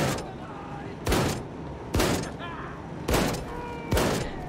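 Rapid bursts of gunfire from Wolfenstein II: The New Colossus, five loud volleys at uneven intervals over a steady background rumble.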